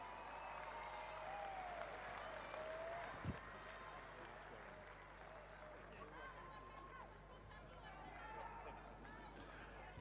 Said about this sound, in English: Big round of applause for today's officials.